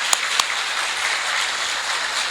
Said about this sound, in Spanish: la doctora Blanca, para la cual pido ese aplauso que ella se merece